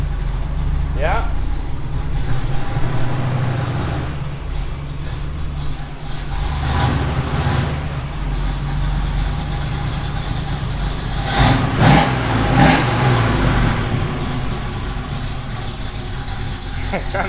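A 4-speed Camaro's engine runs in a workshop with the car up on a rack, a steady low idle rumble with a couple of brief revs, while people talk nearby.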